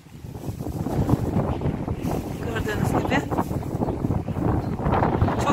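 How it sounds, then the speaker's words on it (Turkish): Strong wind buffets a wide apartment balcony with loud, gusty rumbling that rises and falls throughout, while someone talks over it. "İnanılmaz da rüzgar esiyor, o yüzden dışarıya fazla çekmek istemiyorum."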